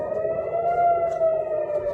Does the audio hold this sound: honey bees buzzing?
no